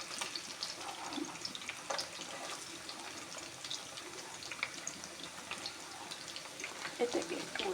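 Sausages fry in a pan with a soft, continuous crackle and sizzle, scattered pops rising above a steady hiss, fairly quiet and close.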